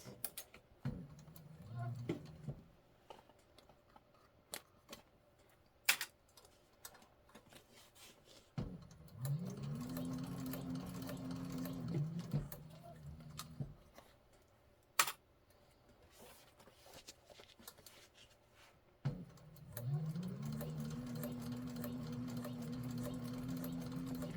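Sewing machine stitching a handbag, running in three steady bursts of a few seconds each with pauses and small clicks between, close and loud, no talking.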